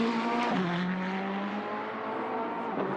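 Engine note of the number 64 McLaren race car in a racing video game as it pulls out of the pits, a steady tonal drone that dips in pitch, then holds, continuous and fairly close.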